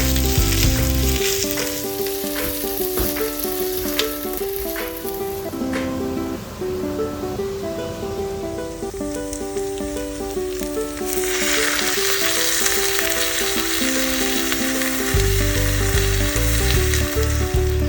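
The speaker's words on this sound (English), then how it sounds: "heat some oil in a pressure cooker, add 1 inch of cinnamon stick, sliced onions, and then give everything a good mix and cook it until it becomes brown in color" Sliced onions and a cinnamon stick fry in hot oil inside a pressure cooker, giving a loud, continuous sizzle that swells near the end, with tuneful background music underneath.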